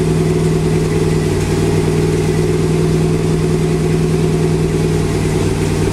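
A V8 swapped into a Porsche 911, fed by a four-barrel carburetor with a hardwired choke, holds a steady, loud, even drone at a fixed fast idle, unbroken throughout.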